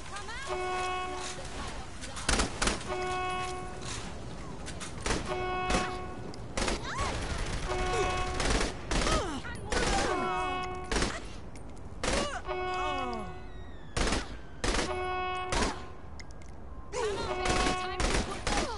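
Sniper and other gunfire in Saints Row: The Third, sharp shots cracking out in irregular bursts every second or two over tonal game music and effects, with a voice heard among them.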